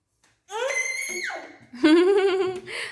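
A young child screams during breakfast in two shrill, close bursts, the first longer and falling, the second higher and wavering, with a short silence between them.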